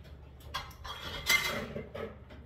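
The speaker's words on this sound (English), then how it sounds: "I'm just going to take these out and just chop them just a little. Rough chop." A knife rough-chopping Roma tomatoes on a board, several uneven knocks and taps spaced irregularly, close and fairly quiet.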